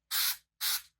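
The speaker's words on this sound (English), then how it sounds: "in order to get a good full coat, I actually like to do a second spray" Two short hissing bursts from an aerosol spray can, evenly spaced and close, misting a second coat over model railway scenery foliage before adding static grass.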